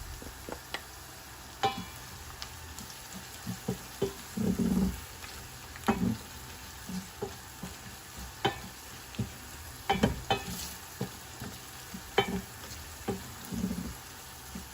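Onions frying with chili powder and red pepper flakes for yogurt köfte, with a steady close sizzle broken by repeated spatula stirs and scrapes against the pan, no voices.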